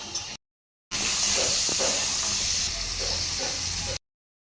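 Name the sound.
ridge gourd frying in mustard oil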